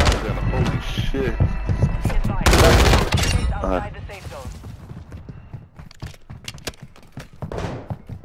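Shotgun blasts ring out in a Fortnite match as loud booming shots among game effects, with excited players talking over the action.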